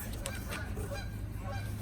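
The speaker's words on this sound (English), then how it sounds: "The geese are going by." Geese honk repeatedly overhead, several calls overlapping, fairly distant over a low background rumble.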